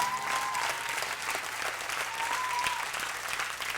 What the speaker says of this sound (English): we'd like to hear a big round of applause for the Burns sisters who preceded us in the break